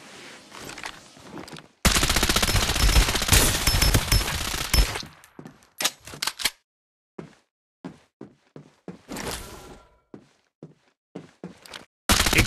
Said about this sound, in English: Exchanging fire!